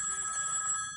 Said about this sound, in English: Let's see what happens when a call comes into this phone.